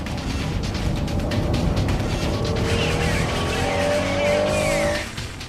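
A Honda NSX-R race car corners hard through a slippery hairpin, its engine roaring loud and steady while tires squeal and skid in rising whines, with the engine note fading sharply at the end.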